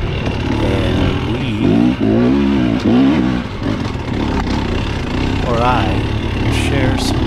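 A bone-stock 2025 KTM 300 XC two-stroke dirt bike on a trail ride runs close and loud, its engine note rising and falling through repeated throttle surges with a constant rough drone, and someone speaks over it.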